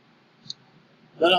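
One faint, quick click of a computer mouse sounds in a quiet room, followed shortly by a voice speaking.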